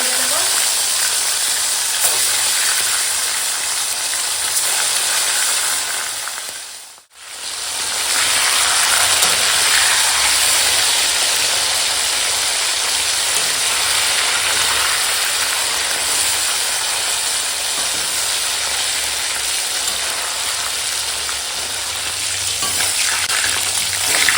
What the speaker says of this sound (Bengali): তো এখন মাছগুলো ভাজা হয়ে গেছে দিয়ে এখন তুলে নেবো